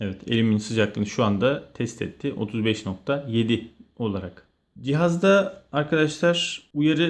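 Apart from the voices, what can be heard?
No everyday noise stands out behind the speech.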